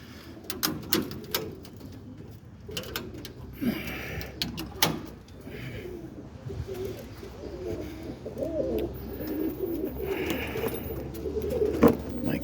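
Roller pigeons coo softly inside a loft, low repeated murmurs with scattered wing flutters and wooden knocks nearby, close and fairly quiet.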